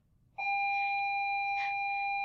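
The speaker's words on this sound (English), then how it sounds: "and there's the bell" An electronic school bell starts abruptly and rings as a steady, continuous tone, heard at moderate volume in a classroom during a chemistry lesson.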